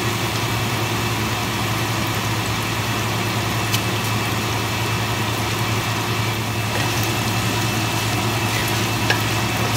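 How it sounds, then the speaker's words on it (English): Chilies and garlic stir-fried with salt in a pan at home give a loud, steady sizzle that runs without a break from start to end, with a constant hum beneath it and no talk. "Stir fry ko lang to ng konti."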